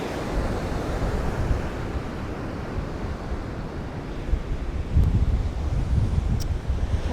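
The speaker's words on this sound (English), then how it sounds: "this might be too windy up here." Steady wind buffeting the microphone with low rumbling gusts, louder bursts near the end, and a faint wash of surf in the background.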